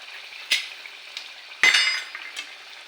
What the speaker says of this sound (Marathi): आणि मंद आचेवर असं फ्राय करून घ्यायचं, डीप फ्राय.